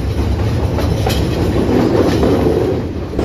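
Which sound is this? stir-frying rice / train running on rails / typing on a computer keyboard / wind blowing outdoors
train running on rails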